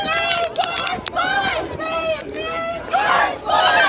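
Protest march crowd chanting and shouting in unison on the 35W bridge in Minneapolis, a loud, rhythmic mass of voices close by, rising and falling in repeated bursts.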